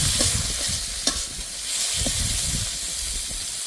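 Chopped tomatoes sizzle and hiss as they fry with onion, garlic and ginger, a steady close frying texture broken by a few scraping stirs and one sharp clack of the utensil.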